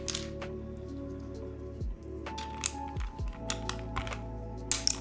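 Typing on a Jelly Evolv Neo mechanical keyboard gives sparse, soft, chalky key clicks in irregular bursts, faint against a low steady hum, with no speech.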